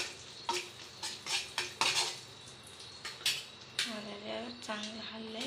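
Stirring kheer with coconut in ghee in a pot, heard as a series of close metallic scrapes and clinks of a spoon against the pot at an irregular rhythm, with a voice speaking softly in the background.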